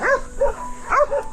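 A large dog barks in quick bursts, two pairs of sharp barks close by outdoors on a ride past a house, over a faint steady hum.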